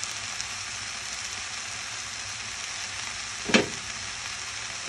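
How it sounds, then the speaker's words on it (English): Vermicelli rice noodles sizzle steadily in a hot pan as they warm through during a vegetable stir-fry, a constant hiss with one brief clatter near the end; no one speaks. "Lastly, I'm going to add the vermicelli, rice noodles."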